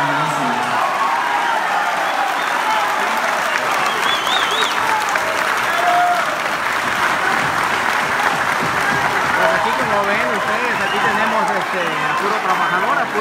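Crowd applause at a political gathering for the governor during a peaceful protest in Colima, steady and dense clapping across the whole stretch with voices and murmuring mixed in.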